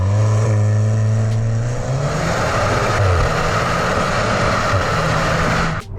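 A 2021 Cupra Leon 300 TSI pulls hard through the gears, its engine note droning and climbing loudly and steadily from inside the cabin, with a brief shift dip, for several seconds without talk.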